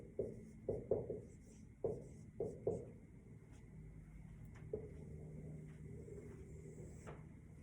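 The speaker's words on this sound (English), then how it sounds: "Write it on the bottom if you don't have space." Pen or pencil scratches on paper during home-schooling work, a handful of short close strokes in quick bursts early on, then fainter occasional marks against a quiet room.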